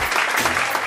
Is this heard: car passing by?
no